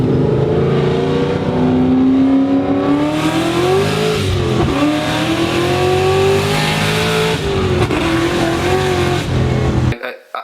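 A 2003 Mustang Cobra with independent rear suspension driving down the road, loud steady engine and road drone close up with shifting pitch, while a voice talks over it.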